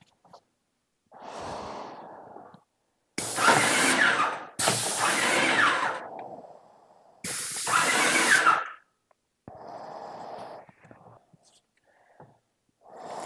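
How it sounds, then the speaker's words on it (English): A Maxpray M1 airless paint sprayer fires several test bursts, each a loud, hissing, broadband spray lasting a second or two, separated by quieter pauses with faint breathy sounds. "And let's go ahead and test our spray here."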